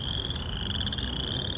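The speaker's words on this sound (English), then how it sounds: "The sound of chorus frogs will soon give way to the chorus of 17-year cicadas in northern Illinois." Chorus frogs croak together in a dense, continuous chorus in northern Illinois, a steady overlapping trill that fills the whole span at a loud, close level with no pauses.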